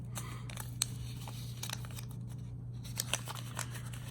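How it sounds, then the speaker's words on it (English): Scissors snip open a patio tomato seed packet, a series of quiet, crisp cutting clicks and crinkles spread unevenly over a low steady hum, with no voices. "Take the package, again, cut it right at the bottom of the circle there."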